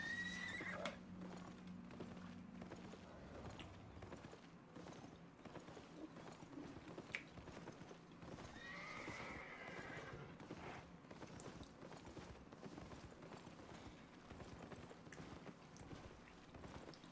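A horse in the Albion Online video game neighs briefly, then galloping hooves clip-clop in a continuous hurried patter under a busy game soundscape, moderately faint and with no talking.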